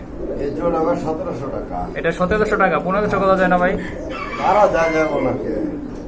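Pigeons at a market sale coo softly beneath someone talking loudly and continuously close by.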